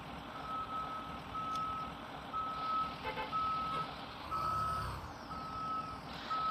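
Repeated evenly spaced reversing beeps from a truck backing up in the Rigs of Rods driving game, with a low engine rumble and a brief hiss beneath, moderately loud with no talking.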